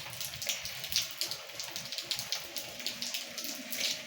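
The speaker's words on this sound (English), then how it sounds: "It's raining." Rain falling steadily on a coastal scene, a continuous splashing patter with scattered brighter drops, fairly close and even throughout, with no voices.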